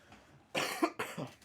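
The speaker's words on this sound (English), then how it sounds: "Let me cough a little bit." A sick man gives a few sharp coughs close to the mic, two main bursts with a short pause between, after a quiet moment.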